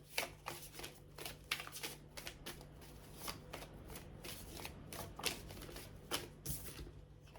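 Tarot cards are shuffled repeatedly by hand, a rapid run of close, crisp riffling bursts in an uneven rhythm with no talk.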